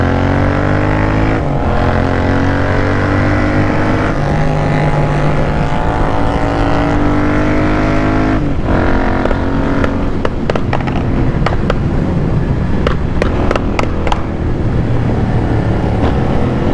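Loud Royal Enfield GT650 motorcycle on a morning ride in Hyderabad, a steady engine drone with shifting pitch and constant wind rush close to the rider, with sharp clicks or pops near the end.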